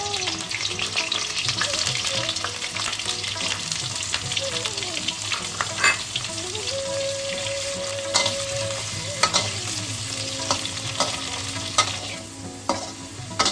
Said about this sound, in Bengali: আমি এবার আলুগুলোকে ভেজে নিই।